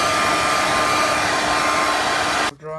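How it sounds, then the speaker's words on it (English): A hair dryer blows a steady, loud whirring roar while drying small homemade scale RC licence plates, running continuously before switching off abruptly at the end. "just use the hair dryer now"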